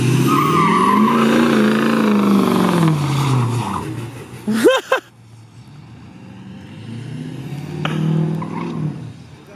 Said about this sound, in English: Ford sounds good. This truck is sick.